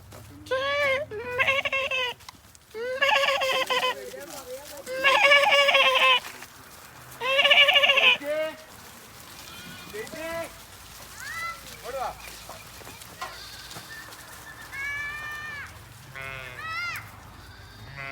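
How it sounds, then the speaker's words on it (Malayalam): Goats and young kids in a Kashmir valley near Pahalgam bleat repeatedly in loud, close bursts, with quieter calls trailing off later while people talk nearby. "ആടുകൾ നോക്കി ആടുകൾ ആട് കുട്ടികൾ"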